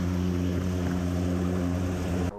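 A small propeller airplane waits before a skydive, its engine droning loud and steady with strong low harmonics, heard close up and continuous until it cuts off abruptly near the end.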